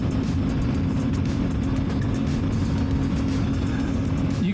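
A CFMOTO Ibex 450 adventure motorcycle with a 450 engine cruises on a road, its steady engine drone mixed with heavy wind rush throughout, loud and close.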